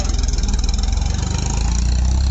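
Eicher 380 tractor diesel engine running steadily at close range, a low rhythmic chugging throb with mechanical clatter that firms up slightly toward the end.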